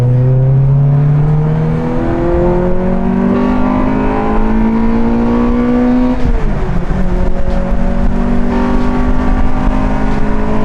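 A manual-transmission car engine revs up loudly, drops briefly as a gear changes, then climbs again in a continuous close-up roar.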